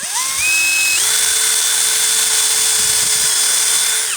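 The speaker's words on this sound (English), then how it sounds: "And we just drill it so the wood doesn't split." Power drill with a 4 mm wood bit boring a hole in wood for shelving on an allotment fruit cage; a loud, steady high whine that rises in pitch as the drill spins up, then holds constant.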